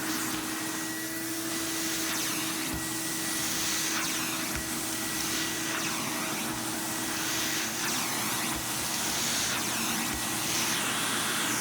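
An Electrolux Epic 6500 SR canister vacuum runs continuously, a loud, steady motor whine with rushing airflow and a constant pitched hum, with a few faint bumps and no speech.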